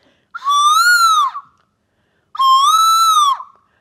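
Two long, pure whistled tones from a traditional Tamil wind instrument, each gliding slightly like a bird call, separated by a pause, clear and close with silence between.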